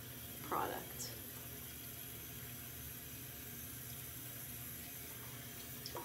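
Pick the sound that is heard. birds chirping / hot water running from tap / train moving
hot water running from tap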